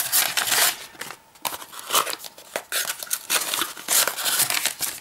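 Paper inserts from a D-Link DAP-1320 WLAN repeater box, a quick install guide and paperwork, crinkle and rustle as they are handled, with repeated close crackling and tearing-like bursts and no talk.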